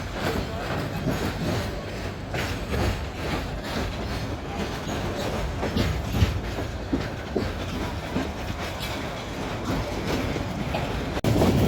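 Inside the Parabat Express, a passenger train bound for Sreemangal in Bangladesh, heard from a shovan chair coach: a steady, close rolling rumble with rhythmic clickety-clack of the wheels that continues throughout.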